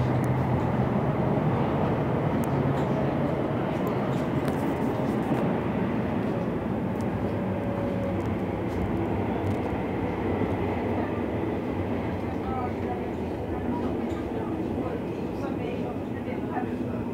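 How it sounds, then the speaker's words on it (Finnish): A metro train rumbles past at a distance near Aalto University in Espoo, Finland, a steady broad roar that fades slightly toward the end. "Meni vissiin Matinkylän metro."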